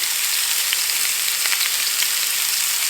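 A beef roast searing in a hot pan gives a steady, close, bright sizzle of frying with faint crackles and pops, and no voices.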